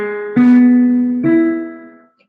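A few piano notes of a chord sound one after another in a beginner lesson, the first two close together and a third entering about a second later, ringing out and fading.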